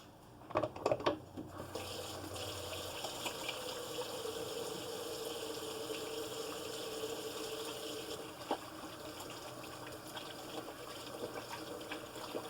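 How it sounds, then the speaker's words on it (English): Hands are washed under a running kitchen tap: a few brief splashes and knocks at first, then a steady close gush of water that runs on evenly to the end without voices. "let me wash my hands real quick"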